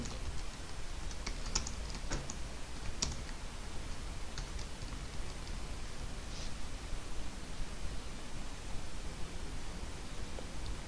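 A computer keyboard clatters with steady, close typing, quick clustered key clicks over a constant hiss of background noise, with no voices.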